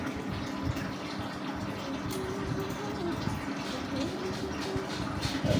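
Water is poured steadily over a small Laddu Gopal idol during its bath, a continuous close splashing rush that holds evenly throughout, with a voice faintly underneath.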